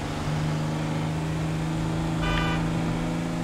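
A car engine from GTA 5 runs steadily in fourth gear, a constant low droning hum with a faint higher whine briefly rising near the end, heard alone without talk.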